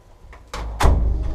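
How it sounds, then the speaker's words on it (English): Door pushed shut during a tour, a soft shove followed by a firm closing thud, close and brief. "Close that door."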